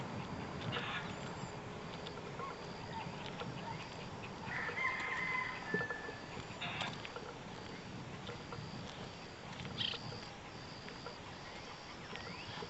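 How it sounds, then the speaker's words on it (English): Distant chickens clucking and a rooster crowing faintly across a noisy outdoor scene near an old bridge on lake trails, with a steady broad rumble underneath. "Sounds like chickens down there."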